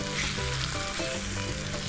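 Two center-cut four-ounce filet mignon medallions searing in homemade garlic herb butter, with a steady, close, loud sizzle and crackle that runs throughout without a break.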